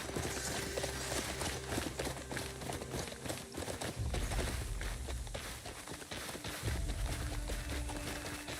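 A horse's hooves in the video game Crimson Desert, trotting in a steady, fairly close clip-clop rhythm over a background of game music and ambience, with no talk over it.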